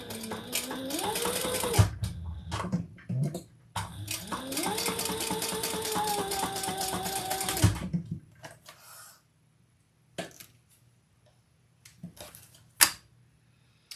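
A sewing machine stitching two rows on fabric, with a steady whirring run that speeds up, stops briefly, then runs again before ending, followed by scattered clicks and handling noises, close and fairly loud with no talking.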